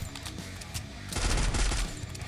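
Rapid gunfire bursts in a Free Fire battle royale match, loud repeated shots with a dense automatic volley in the second half, close and continuous.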